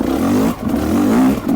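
Motorcycle engine revving up close, a rising throaty drone that dips briefly then climbs again.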